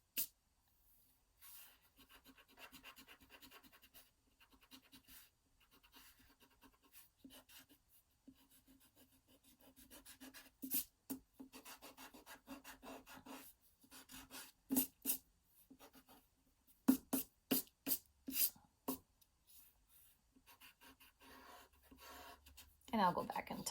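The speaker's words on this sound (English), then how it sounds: "I'm going to go back and I'm going to erase some of these lines here" Pencil eraser rubbing back and forth over drawn lines on paper for a crayon mermaid-cat drawing, quiet scratchy strokes in bursts that grow quicker and denser toward the end, close by, with faint breathing or movement in between.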